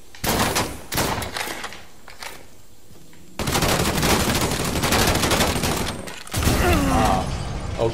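Sustained automatic gunfire aimed at tanks in Mafia III, loud dense bursts that stop and start again, with a long continuous stretch near the end and a sharp blast-like burst at the finish.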